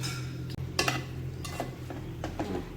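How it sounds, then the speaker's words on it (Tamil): Spinach being stirred in a cooking pot, with a few scattered scraping and clinking strokes of a spoon against the metal over a low steady background hum, fairly close and moderately quiet. "நல்லா கலந்து விட்டாச்சு உப்பு எல்லா பக்கத்தும் இருக்க மாதிரி"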